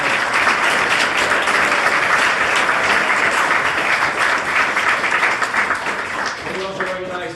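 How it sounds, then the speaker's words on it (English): An audience at an anniversary breakfast policy forum gives the two ambassadors a loud, sustained round of clapping that thins toward the end as a voice starts to talk over it. "So how about a round of applause?"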